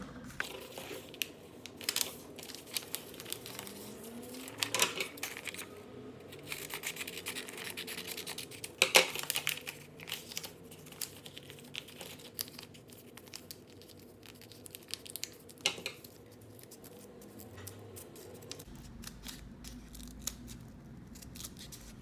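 Scissors snipping paper to cut out paper snowflakes in a classroom science activity, a steady run of crisp close cuts and rustles with brief pauses, no talking.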